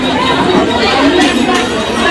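Morning crowd at Diva railway station, a loud, dense wash of overlapping voices and chatter close around, continuous throughout.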